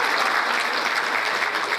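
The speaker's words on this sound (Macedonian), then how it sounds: "Ајде уште еден аплауз за нашите гости." Audience at a folk ensemble concert claps in a dense, steady round of applause, loud and close from start to finish.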